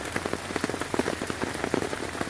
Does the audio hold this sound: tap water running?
no